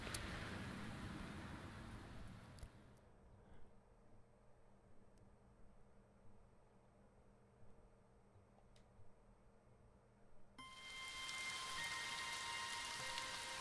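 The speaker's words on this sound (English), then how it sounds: "The rain poured down endlessly." Steady rain pours on city streets in the video game AI: The Somnium Files, a faint hissing wash that drops quieter in the middle before swelling again, with no voices.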